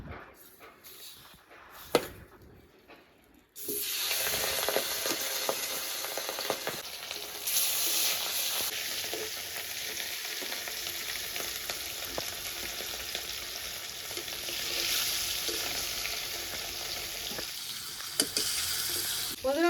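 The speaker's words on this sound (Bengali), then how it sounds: "তেলটা গরম হয়ে গেছে এবার মাছের পিসগুলো এক এক করে ভাজবো" Rohu fish pieces dropped into hot oil set off a loud, steady sizzle that starts abruptly after a few quieter seconds of kitchen handling and continues with occasional crackles and stirring.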